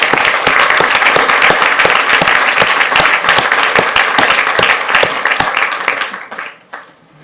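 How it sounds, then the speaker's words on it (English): A school board meeting audience breaks into loud, sustained applause with dense clapping throughout, which fades out over the last second. "So if we could give them a round of applause,"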